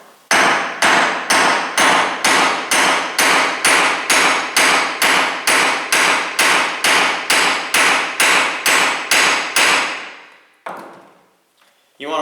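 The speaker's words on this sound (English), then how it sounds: "then we'll take the hammer," A hammer drives and flattens a fastener on a homemade catch pole in about twenty sharp, evenly spaced metallic blows, close and loud, followed by a brief pause and a final faint clatter.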